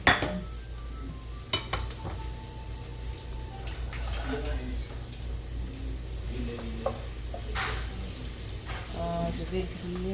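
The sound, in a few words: onions frying in a pan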